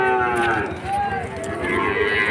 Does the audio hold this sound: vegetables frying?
no